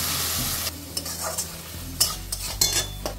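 Butter chicken gravy fries in a pan with water added, a continuous loud sizzle broken by quick scraping stirs of a spoon, brief and close with no voices.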